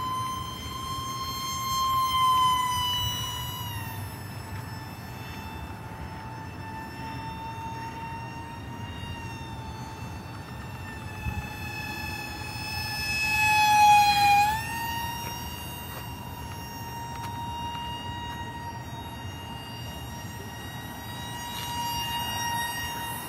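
Great Planes F-86 Micro Sabre electric ducted fan model jet in flight, a steady high-pitched whine that rises and swells as it passes closer, then settles back to a moderate, distant drone.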